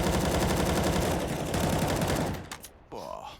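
Rapid automatic gunfire from a competitive CS:GO match on the Overpass map, a dense continuous burst of shots that is loud and close, then cutting off into quieter game sounds near the end.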